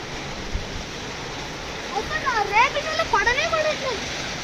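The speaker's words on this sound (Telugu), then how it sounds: "ఫుల్ వర్షం పడుతోంది" Heavy rain pours with a steady, dense hiss, while someone talks briefly over it.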